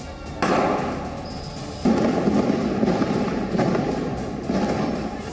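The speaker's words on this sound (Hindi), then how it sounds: "वो बम धमाके की गूंज सुने।" Several heavy bomb explosion booms in Myanmar strike a few seconds apart, each followed by a long rumbling echo that lingers over steady background noise.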